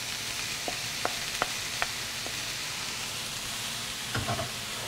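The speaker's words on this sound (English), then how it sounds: "this is the time you would want to add your riced cauliflower" Riced cauliflower and vegetables frying in a pan, with a steady sizzle throughout, a few sharp clicks of the utensil, and a short burst of stirring near the end.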